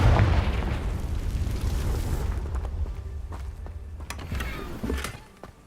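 A Confringo fire spell bursts in Hogwarts Legacy as a loud, deep boom, then a rumbling, crackling decay full of scattered debris clatters and small pops before it fades out near the end.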